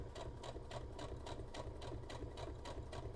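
Sewing machine stitching, a steady rapid mechanical chatter with an even rhythm, quiet and continuous with no talk.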